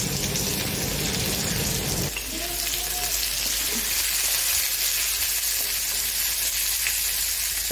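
Onion fries in oil with panch phoron and bay leaf, giving a steady, dense sizzle with a sharper hiss in the opening seconds, then a softer crackle. Faint clinks are heard, with no talking.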